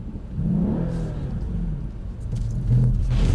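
A Mercedes-Benz C63 AMG engine rumbles on track, with a low throttle blip swelling near the end over a steady whirring background.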